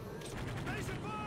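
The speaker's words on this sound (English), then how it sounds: "Teammate just shot at him." Video game gunfire from a teammate: a short, muffled burst of shots low in a noisy game mix, with a voice talking over it.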